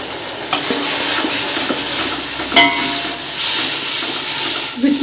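Tomatoes drop into a hot pan of browned onions, green chilies and garlic, setting off a loud, steady sizzle and hiss with stirring scrapes and a surge of frying noise midway.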